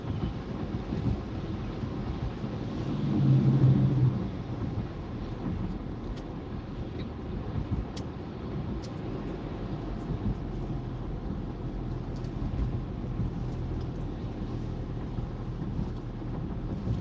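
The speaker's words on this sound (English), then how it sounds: "You can hear all that slush, snow, and ice." Car tires rolling through slush, snow and ice at about 35 miles an hour, a continuous broadband rushing and hissing roar with no voices.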